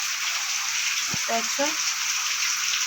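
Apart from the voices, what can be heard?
rain dripping through a broken roof onto a veranda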